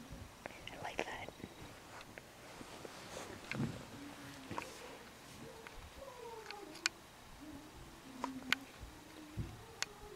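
A domestic cat purrs and meows in short, rising and falling calls spread through the clip, close and fairly quiet, under soft whispered talk and scattered small ticks.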